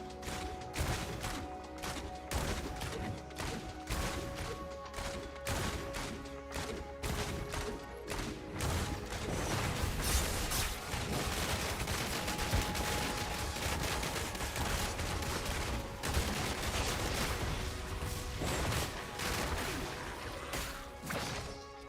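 Rapid, relentless gunfire from a Demon Hunter strafing downrange in Diablo Immortal PvP, dense volleys of shots and impacts layered over steady game music, loud and continuous throughout.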